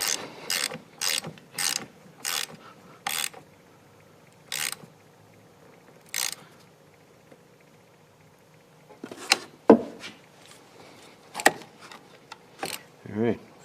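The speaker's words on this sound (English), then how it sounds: "Take our 10mm socket." Ratchet with a 10mm socket tightening the battery terminal on a 2013 Chevy Malibu, a run of quick, close clicking bursts in a steady rhythm, then scattered metallic clunks and handling knocks.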